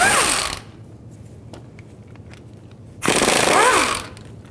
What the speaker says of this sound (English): Take these axle bolts out.